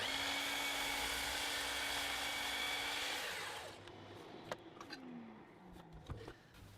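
A power saw cuts across the ends of a clamped bundle of four wooden table legs, a loud steady whine for about three seconds that drops off, followed by sparser knocks and a short descending tone as the blade winds down.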